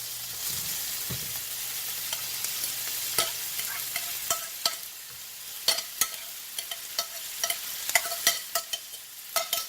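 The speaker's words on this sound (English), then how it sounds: "Now we're gonna add in our blanched yam leaves." Blanched yam leaves sautéing in a hot pan with a continuous sizzle, starting quiet and then filling with frequent sharp scrapes and clacks of a utensil stirring and tossing the leaves, close by.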